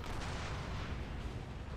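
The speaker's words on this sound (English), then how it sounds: "I like to think that's the noise the tank makes every time it shoots" Tank cannon fire in the video game Gears of War 2, a dense, steady booming roar that fills the whole short stretch at moderate loudness with no voices over it.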